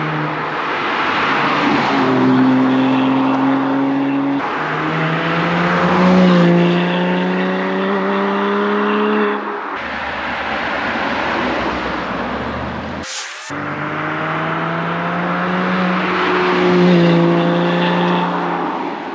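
Porsche Cayman 987 with a loud exhaust, driven hard on the road: a strong engine note rises through the gears in repeated surges, cutting off briefly between shifts, with no talking.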